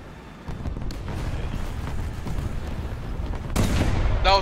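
Tank cannon fire in the video game War Thunder: a deep rumbling boom swells in early, then a sharper, louder blast lands near the end over a continuous low battlefield roar.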